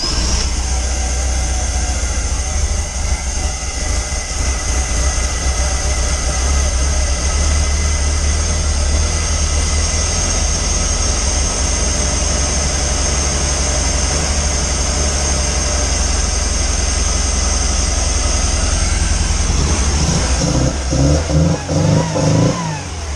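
A Pinzgauer engine runs steadily and loudly after a gear reduction starter install, a constant droning rumble that roughens near the end.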